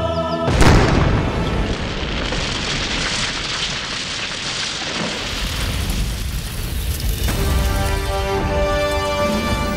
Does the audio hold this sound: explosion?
yes